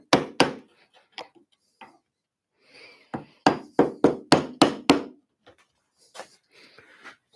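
Steel chisel struck with a mallet while hand-cutting a mortice in wood: sharp close knocks, a few scattered then a rapid run of about seven evenly spaced blows, followed by lighter taps and soft paring scrapes.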